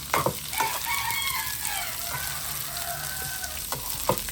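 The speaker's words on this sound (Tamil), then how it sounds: "நல்லா அடி கொடுத்து எல்லாத்தையும் கிளறுங்கோ." Onion and coconut gravy for Maldives fish (maasi) kulambu simmering in a pan, a steady bubbling sizzle with repeated spoon scrapes and taps as it is stirred, no voices.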